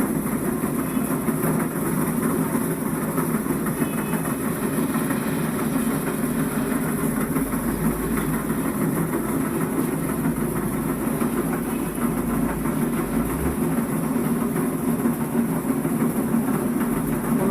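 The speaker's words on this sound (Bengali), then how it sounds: "এখন ডিজিটাল যুগে এই মেশিন দ্বারা গভীর নলকূপ বসানো হয়" An electric motor-driven machine drilling a deep tube well, a steady droning hum with a constant rumbling low end and a high whine, continuous and unchanging with no talking.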